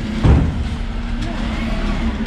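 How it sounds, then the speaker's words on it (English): A garbage truck idles and works close by on a UK street, its low diesel rumble steady with a brief heavier surge near the start and a voice faintly audible. "So iyan ang truck ng basura dito."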